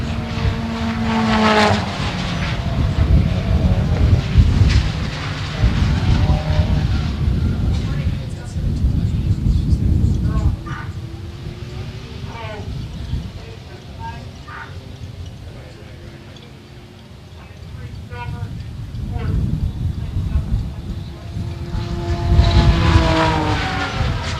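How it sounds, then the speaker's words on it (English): Race cars roar down the front straight one after another during a time attack session, engines rising and falling as they pass, with a commentator talking over the noise throughout. "the cars coming down the front straight for the very last of our time attack sessions"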